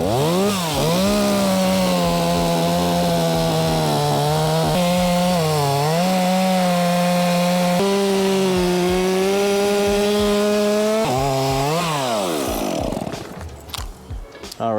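Chainsaw notching and cutting a tree limb during tree work, a loud close engine drone that rises and falls in pitch as the blade bites and eases, ending with the saw letting off.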